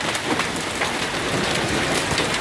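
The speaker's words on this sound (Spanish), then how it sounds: "Vean el tamaño de este granizo." Hail pelts down during a violent storm, a dense continuous hammering of ice on surfaces, loud and steady with no voices.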